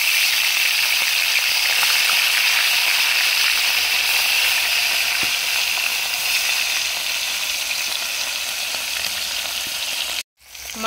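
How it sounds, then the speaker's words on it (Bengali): Pieces of rohu fish frying in hot mustard oil, a loud continuous sizzle and crackling hiss that holds steady close up, easing slightly near the end before a brief cut, with no talk. "মাছগুলো ভেজে নেব।"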